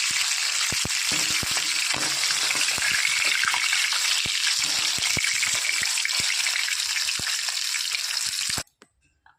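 Tilapia fish frying in hot oil gives a loud, continuous dense sizzle with crackling pops, close up, before cutting off abruptly near the end.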